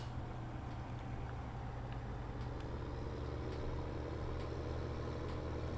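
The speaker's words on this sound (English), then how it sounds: "T7 is one hell of a tractor." A New Holland T7 tractor engine idles in Farming Simulator 17 on the Lossberg map, a steady, even mechanical drone that holds at a moderate level throughout without any talk.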